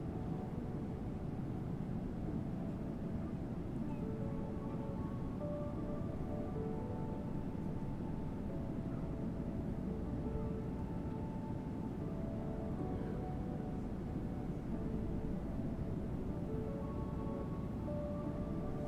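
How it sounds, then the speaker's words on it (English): Steady, continuous engine drone from a Boeing 777-200ER in a PMDG flight simulator with an add-on engine sound pack, a constant loud hum with sustained tonal whine lasting throughout, with no voices. "We are flying all 3 engine variants of the 777 this week, so we can hear the beautiful sound pack by Mr. Magician Boris."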